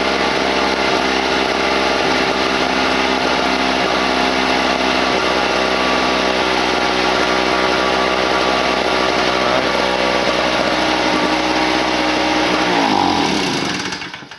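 A Tailgator portable gasoline generator runs nearby with a loud, steady, buzzing engine drone that holds constant for about thirteen seconds before suddenly winding down and stopping.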